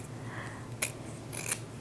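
Fabric scissors snip twice through a small folded scrap of quilt fabric, two short crisp cuts close by in a quiet room.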